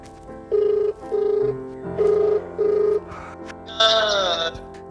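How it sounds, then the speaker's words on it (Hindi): A telephone ringing in a steady repeated pattern, four bursts of ringback tone with short gaps, ending in a brighter electronic chirp. "सभी दोस्तों को अब मैं फोन मिला चुका हूँ, कोई फोन नहीं उठा रहा।"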